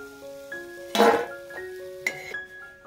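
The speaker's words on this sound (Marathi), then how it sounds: "तर आता आपण एका प्लेटमध्ये काढून घेऊया।" Fried rice-flour gulab jamun are lifted from hot oil onto a plate, giving a few light clinks of a utensil against metal and a soft sizzle underneath, close and fairly quiet.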